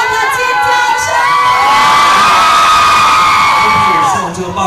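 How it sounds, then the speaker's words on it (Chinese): A crowd at a live fan event in a Bishan Junction 8 mall screams and cheers loudly and continuously, with children's shrieks and whoops rising over the roar before it fades near the end. "要听爆料的尖叫声！"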